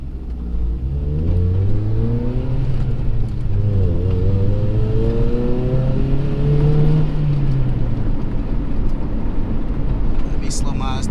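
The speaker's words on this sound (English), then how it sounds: "That Audi sounds like one of them Hondas." An Audi passes nearby with its engine revving high and rising in pitch like a tuned Honda, heard from inside another car on the street; the rumble swells and fades over several seconds with someone talking over it.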